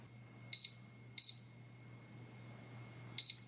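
An electric rice cooker set to steam mode gives three short, clear electronic beeps, two close together and a third after a pause, in an otherwise quiet room.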